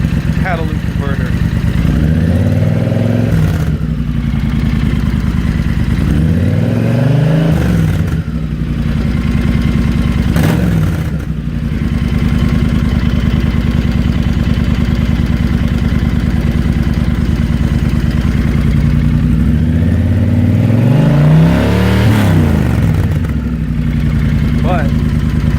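Triumph Thunderbird motorcycle with debaffled exhaust pipes and catalytic converter, engine idling steadily with several throttle blips rising and falling, a person speaking over it.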